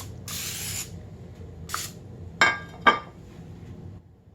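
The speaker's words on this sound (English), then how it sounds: "I'm just going to use nonstick cooking spray" Nonstick cooking spray hissing from a can in a kitchen: two short, quiet bursts of spray followed by a couple of sharp glassy clinks, then a faint hiss.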